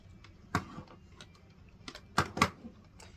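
Buttons on a Nintendo Switch GameCube-style controller pressed near the microphone, several sharp plastic clicks, scattered and then a quick pair near the end, over faint room noise.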